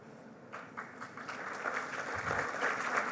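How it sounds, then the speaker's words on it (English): Applause from the audience at a memorial oration in a hall, building from scattered claps into a steady, moderately loud patter that continues for a few seconds. "I think the applause should be louder"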